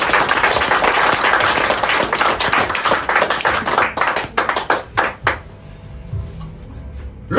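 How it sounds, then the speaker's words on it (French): A church congregation claps and cheers in praise of the Lord, dense sustained applause that thins into scattered claps and fades toward the end. "Est-ce qu'on peut acclamer le Seigneur?"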